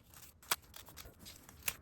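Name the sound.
scissors cutting up paper pages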